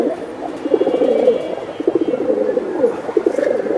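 Silver generation pigeons coo close by in soft, repeated throaty phrases that overlap and pulse in bursts, with faint rustling around them.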